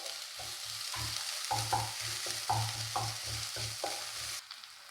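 Onion, crushed ginger and garlic sautéed in a pan for a soya curry, rhythmic close scraping stirs over a continuous loud sizzle, about a dozen strokes in quick succession, no voices.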